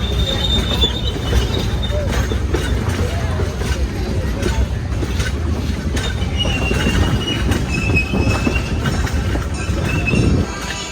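A train rolls along the track at a train-enthusiast event, a steady loud rumble with clattering wheels and high metallic squeals, while people talk nearby.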